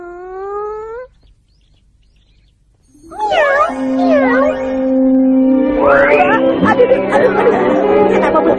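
Cartoon cat meowing in a Doraemon episode, several high, wavering mews mixed with other squeaky cartoon voices and effects, after a brief line of speech and a short silence.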